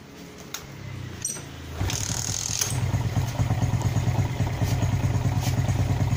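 A motorcycle engine with a carburetor sputtering fault sputters and then catches, settling into a steady, rapid idle chugging close by.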